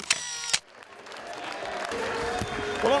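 A crowd at a greyhound track cheers and applauds a winning dog on its lap of honour, starting with a couple of sharp clicks, then a swelling wash of clapping and cheering.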